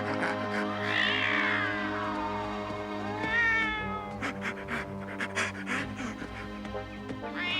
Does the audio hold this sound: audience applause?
no